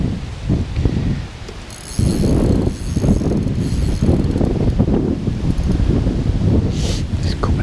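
Strong wind gusting across a fishing lake during a live match, buffeting the microphone with a steady low roar and rustling that surges louder partway through.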